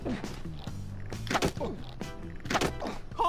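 Dull thunking blows land on a character in the video game Bully, several scattered impacts mixed with game voices and talk.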